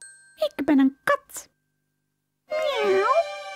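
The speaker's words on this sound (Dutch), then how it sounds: "Ik ben een kat." A voice speaks briefly, then after a pause a clear, drawn-out cat meow rises and falls, close and fairly loud.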